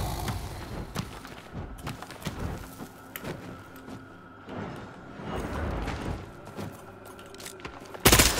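Brast weapon fire in the Bloodhunt beta, a rapid string of sharp shots and clacks scattered over several seconds, close and fairly loud, ending in a sudden bright burst.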